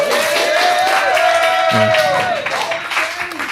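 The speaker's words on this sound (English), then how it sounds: "Round of applause" A live showcase audience breaks into applause, a dense wash of clapping with a held tone and someone talking over it before it thins out near the end.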